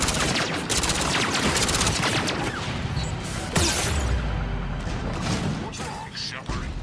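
Rapid automatic gunfire rattles in bursts during combat in the video game Mass Effect 3, with impacts and a heavy boom partway through, while characters talk over the shooting.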